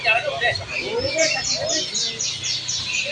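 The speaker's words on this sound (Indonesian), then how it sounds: "Burung pasar." Market birds chirp and tweet at Pramuka market, a pet and bird market, with bright repeated calls heard under and between nearby voices in a busy setting.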